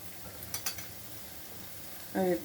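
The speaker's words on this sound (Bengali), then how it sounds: "আবার দেখুন বড়াগুলো লাল লাল হয়ে গেছে ভাজা" Lentil fritters (dal bora) frying in hot oil, a faint steady sizzle with a couple of soft clicks, ending in a short voice.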